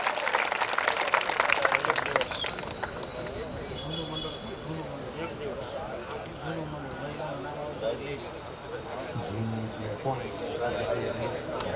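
A short burst of crowd applause at a religious festival honouring a guru's 50th nirvana anniversary, fading after a couple of seconds as a voice takes over and keeps talking.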